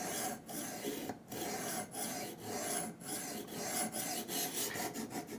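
A knife scrapes back and forth across a sharpening stone in steady, rasping strokes with short pauses between them. The grinding is close and continuous, and no one speaks.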